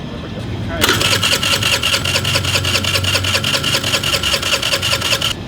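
Scooter engine being cranked repeatedly and failing to catch, a loud rapid rhythmic starter churn that begins abruptly and continues for several seconds, possible fuel or air issue, with no ignition.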